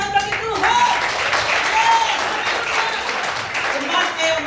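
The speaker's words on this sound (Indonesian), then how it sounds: "Ayo berikan tepuk tangan bagi Tuhan." Church congregation applauding during a Sunday worship service, a steady wash of many hands clapping that fills the whole clip, with voices mixed in among the crowd.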